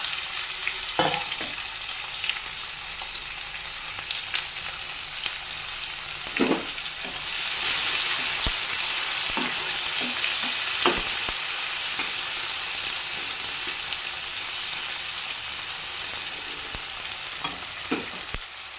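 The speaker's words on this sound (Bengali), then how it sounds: "এবার পেঁয়াজটাকে ভালো করে লাল করে ভেজে নেব।" Onions fry in a pan with a whole bay leaf and garam masala, browning in a steady sizzle with occasional stirring scrapes and taps and no talking.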